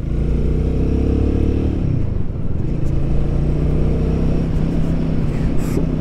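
A Royal Enfield Guerrilla 450 motorcycle accelerating hard, its loud, close engine roar dipping briefly in pitch at a gear change before climbing steadily again, with wind rush throughout.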